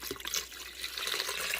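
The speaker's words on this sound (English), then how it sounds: "So I'm going to add 4 cups of beef broth" Four cups of beef broth pour from a carton into a pot, a brief liquid splashing and trickling sound, close and moderately quiet.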